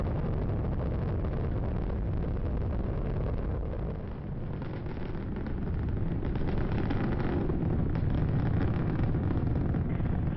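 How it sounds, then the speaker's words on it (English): Space Shuttle Discovery's engines on the STS-120 launch, a steady, heavy low roar with crackling rumble that holds constant throughout, loud and continuous with no voices. "Discovery's engines are throttling down as the orbiter passes through the area of maximum pressure on the vehicle"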